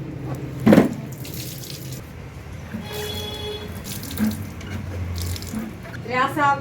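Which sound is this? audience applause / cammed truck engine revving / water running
water running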